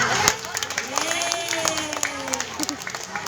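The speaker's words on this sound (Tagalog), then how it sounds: "palakpakin yung classmate" Schoolchildren in a classroom clap together for a classmate, a ragged scatter of small hands mixed with lively children's voices and shuffling.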